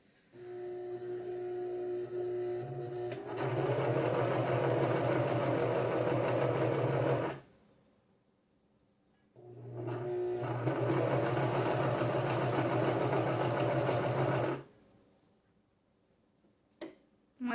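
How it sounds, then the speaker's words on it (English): A sewing machine stitches a quarter-inch seam on fabric for a Christmas tree table topper in two sustained runs of rapid, even mechanical clatter, separated by a brief quiet pause, heard up close. "just sew about 1/4 of an inch seam on here"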